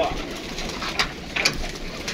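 Pigeons cooing near a pigeon trap: two or three soft, throaty coos stand out around the middle over a steady low background hiss, with no one speaking.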